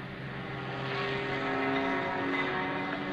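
Patty Wagstaff's Goodrich Extra 260 aerobatic plane at the 2003 Dayton airshow passes as a continuous propeller-engine drone, moderately distant, with a slowly swelling pitch.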